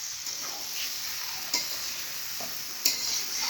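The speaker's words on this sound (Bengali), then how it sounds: "আমি এখন চিকেন কষা রান্না করছি" Chicken kosha fries in a pan with a soft, even sizzle, broken by two or three sharp taps of a spoon against the metal as it is stirred.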